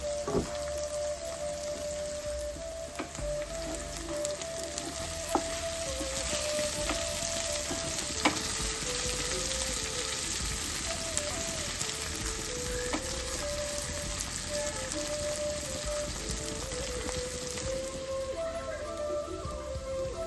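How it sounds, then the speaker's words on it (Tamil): Taro root (colocasia) roasting in a pan over a low flame, with a dense crackling sizzle like light rain that holds steady, broken by occasional sharp ticks. "இது நல்லா நான் இப்படி திருப்பிட்டு நான் கொஞ்சம் சிம்ல வச்சுட்டு திருப்பி போட்டு நல்லா ரோஸ்ட் பண்ணி எடுத்துட்டு காமிக்கிறேன்"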